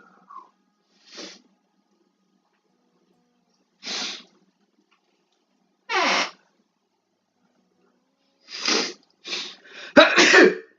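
A sneeze among a series of short, sharp bursts separated by silence, with the loudest and final burst at the end.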